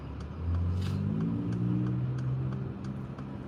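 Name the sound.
2017 Mercedes G 63 Wagon engine driving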